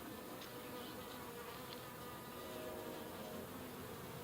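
Bees in a horizontal hive hum in a dense, continuous drone that stays at an even loudness from start to finish, close up with no voices.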